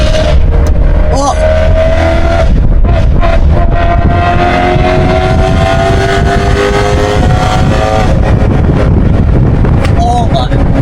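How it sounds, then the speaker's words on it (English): A loud BMW E9X M3 engine revs and roars close by, with wind buffeting the microphone and a voice speaking briefly over it. "So guys, this car is so loud."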